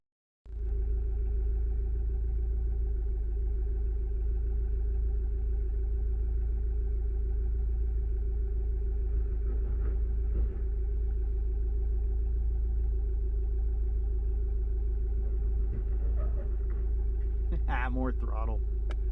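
An off-road vehicle with a fuel delivery problem runs steadily on a rough trail, its engine a constant low rumble close by that stays unbroken throughout, with a few faint clicks and knocks near the end.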